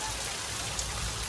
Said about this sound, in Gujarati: તો ગાઈસ વરસાદ આવી ગયો